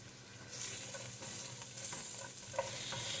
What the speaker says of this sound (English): I'm sauteing these.